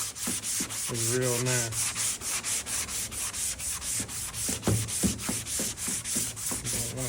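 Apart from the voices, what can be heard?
sanding a Ford F150 tailgate with 220 grit on a long block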